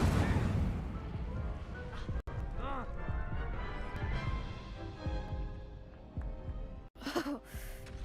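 The Incendio fire spell is cast during a Hogwarts Legacy duel: a couple of sharp crashing bursts and thuds stand out over rumbling game effects, with voices heard through the action.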